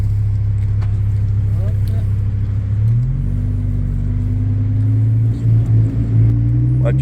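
A Lamborghini Huracan Spyder's engine in automatic drive hums steadily from inside the car, then climbs in pitch as it accelerates, with a loud, continuous rising drone and people talking briefly over it.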